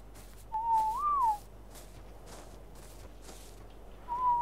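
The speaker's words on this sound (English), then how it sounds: "Whistle all to follow." In Ark: Survival Evolved, a whistle command for tamed creatures to follow sounds as a short wavering melodic whistle, then a second whistle begins a few seconds later, over faint background noise with no talking.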